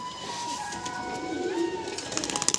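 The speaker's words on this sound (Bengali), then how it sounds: "দেখে নিন খুব সুন্দর পায়রা" Low pigeon cooing murmurs under a steady hum, ending with a few soft fluttering taps.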